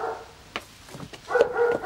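Dogs bark and yip in a few short bursts, moderately close, with whimpering tones between the barks.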